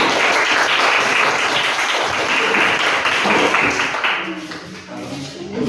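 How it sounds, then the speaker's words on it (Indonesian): Classroom applause for a student group called up to present, a dense steady patter of hands filling most of the clip and thinning toward the end, with some voices mixed in. "Beri tepuk tangan dulu."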